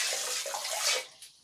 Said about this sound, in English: you can press it all the way down for more water